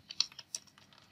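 Keystrokes on a computer keyboard while entering column headings in a Google Sheets spreadsheet, a quick irregular run of light clicks, close and fairly quiet, with no talking.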